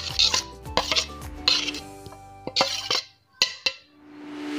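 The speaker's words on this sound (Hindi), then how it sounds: "ये मैंने चॉप करके अनियन रखे थे वो डाल दिए हैं" Chopped onions tipped into a pan for homemade golgappa filling, clattering and clinking against metal in several sharp bursts with stirring scrapes between, close and alone with no talk.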